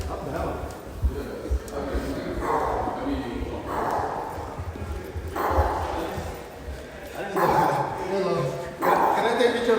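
A dog barks and whimpers in repeated short yelps at a car show, fairly close, while people talk over much of it.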